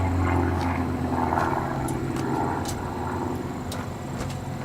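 A propeller-driven aerobatic airplane flies a Primary/Sportsman competition sequence, banking hard through a turn; steady engine drone from a moderate distance with slight swells in pitch, continuous throughout.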